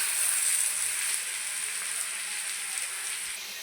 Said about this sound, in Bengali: এখন এইভাবে আমি ভাজতে থাকবো।